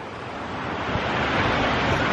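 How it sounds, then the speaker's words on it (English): Steady, loud rushing of water inside a tunnel fills the clip, a broad continuous wash that swells slightly toward the end, with no voices. "I think it's the water."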